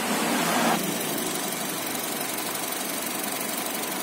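Engine of a 2017 Honda HR-V 1.5 E CVT idles with the hood open, a steady mid-pitched hum with light mechanical ticking; a brief louder rush opens the sound before it settles.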